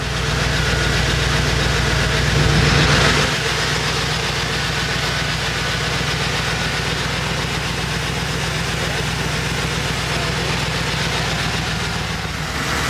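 A Chevy Express van with a newly swapped 6L90E transmission runs steadily in gear, a loud, continuous close-up engine drone with a brief swell near the start, while someone talks over it.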